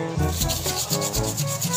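Steady, close rubbing of 3M sandpaper scouring a stained bathroom surface, in repeated back-and-forth strokes with a regular rhythm. No one speaks.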